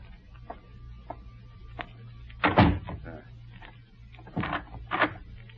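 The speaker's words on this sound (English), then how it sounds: "I will close the door." A door in an old-time radio mystery drama is pushed shut and locked, a loud wooden thud with rattling latch and bolt clicks near 2.5 s, then a second burst of latch and lock clatter around 4.5 to 5 s, over faint room hiss.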